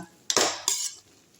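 Jackfruit seed fry is stirred in a pan, producing two quick metallic scrapes of a spoon against the pan, close and fairly loud, with no voices.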